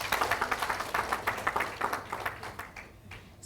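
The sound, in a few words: crowd clapping at a celebration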